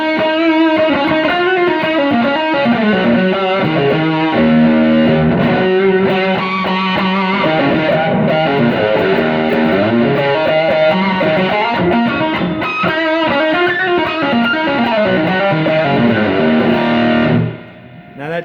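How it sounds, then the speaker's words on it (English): A heavily distorted electric guitar through a JHS PG-14 distortion pedal, drive turned up, plays chords and riffs continuously and loudly, thick and mid-heavy, before cutting off abruptly near the end. "That just sounds like a really good distortion with a lot of mids."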